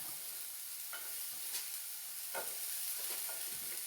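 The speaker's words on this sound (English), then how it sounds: "Okay, starting to sizzle." Food sizzles in a frying pan while a Mediterranean grilled cheese is cooked, a soft steady crackle with a few brief scraping stirs, quiet and without any talking.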